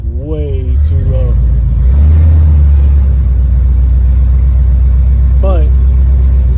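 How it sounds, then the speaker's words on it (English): A fourth-generation Chevrolet Camaro, recently jump-started, idles too low with a steady deep rumble that grows slightly louder partway through, while people talk briefly near the start and near the end. "Yeah, that idle is way too low."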